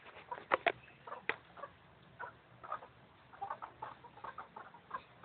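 An angry Australian rooster clucks in short, quick bursts, a cluster of sharp calls early then scattered softer clucks, fairly faint and close with no talking.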